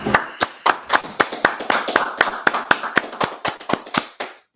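Sharp, steady claps in an even rhythm, about a dozen and a half, close and loud, stopping after a few seconds.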